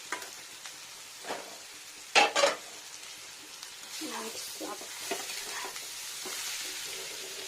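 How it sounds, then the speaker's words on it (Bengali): Potatoes and pointed gourd are stir-fried in a pan, with a soft sizzle beneath a couple of sharp spatula knocks and a scraping, stirring stretch afterward. A voice speaks quietly over parts of it. "এখানে ভালো করে কষিয়ে নিতে হবে আলুটা পটলটাকে অনেকক্ষণ ভাজা ভাজা করে নিতে হবে"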